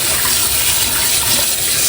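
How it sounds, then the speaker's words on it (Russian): Cold water runs from a kitchen tap over an onion being rinsed, a loud, close, steady gushing splash that carries on evenly, with no voices. "Сейчас я его промою холодной водой"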